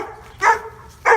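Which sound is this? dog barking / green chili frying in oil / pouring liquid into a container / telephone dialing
dog barking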